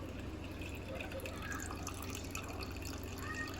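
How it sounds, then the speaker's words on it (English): Dark mulberry juice strained into a pan, a continuous close liquid trickle and dripping with a low background hum throughout. "I'm gonna strain the berry goo."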